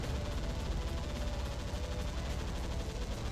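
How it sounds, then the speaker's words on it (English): Dense, continuous rumbling blasts and crackling bursts from a video game, loud and sustained without pause, with no talking. "That was a lot of explosions."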